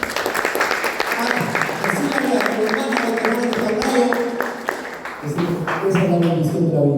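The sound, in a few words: congregation applauding in church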